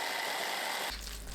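Electric food chopper mincing beetroot, a steady close whirring motor drone that drops to a deeper hum near the end.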